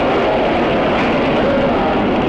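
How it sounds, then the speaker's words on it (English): The Apollo 12 rocket engines roar at liftoff as a dense, steady rumble filling the whole clip, loud and unbroken with no voices over it. "All engines running, commit, liftoff"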